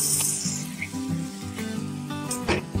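Water is poured into a simmering rosogolla curry gravy in a pan, giving a steady splashing pour over a low bubbling sizzle, close and fairly loud.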